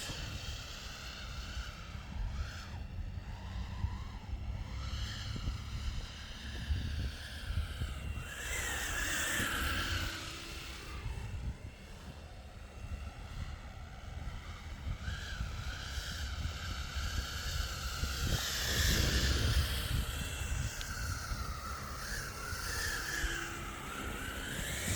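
A 3D printed EC-135 model helicopter in flight, its electric rotor whine steady and fairly loud throughout, pitch rising and falling as it manoeuvres, with no talking.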